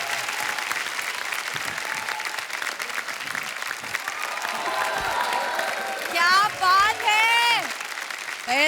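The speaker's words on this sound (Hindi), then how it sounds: "एक बार जोरदार तालियां हमारे मेहमानों के लिए।" Studio audience applause for the guests on a Hindi comedy talk show, The Kapil Sharma Show, a steady dense clapping wash with music and voices layered over it and a host speaking near the end.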